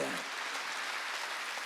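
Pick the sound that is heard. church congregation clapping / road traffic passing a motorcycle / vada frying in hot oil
church congregation clapping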